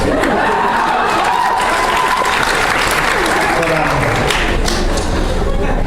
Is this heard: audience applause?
yes